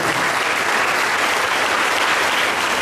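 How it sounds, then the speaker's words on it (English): A crowd at a concluding ceremony claps steadily and loudly throughout, a dense continuous burst of applause filling the room. "can we all give a huge round of applause to all my students"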